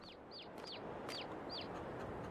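Chickens clucking in Farming Simulator 22, a string of five or six quick, fairly faint clucks over a steady background hum, no voices.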